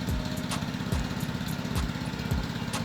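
A small husk-free rice milling machine with a disk mill flour attachment runs steadily, giving a loud, rhythmic thumping drone with repeating pulses and no talk.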